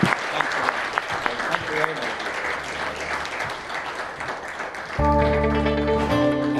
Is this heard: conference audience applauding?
yes